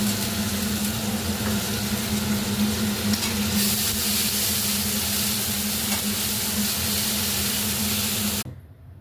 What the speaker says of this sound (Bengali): মাছটা ভাজছি। কড়াইতে তেল দিয়েছি, কালো জিরা ফোড়ন দিয়েছি, এবার পোস্তটা দিয়ে দেবো।